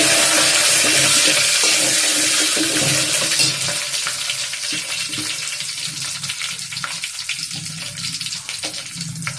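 Curry leaves drop into hot oil for rasam, bursting into a loud, dense crackling sizzle that gradually settles into softer, uneven spitting and popping.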